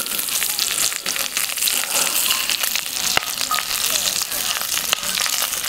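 Thick-cut bacon pork slices fry in a Lodge cast iron pot over a wood-fired camp fire pit, making a steady, close, loud sizzle with scattered sharp crackles and pops.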